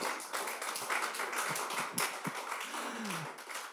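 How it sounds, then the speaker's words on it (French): Audience applause at a comedy club launch, a dense wash of clapping with a few louder individual claps standing out and a voice briefly heard beneath. "Sous vos applaudissements, mesdames et messieurs"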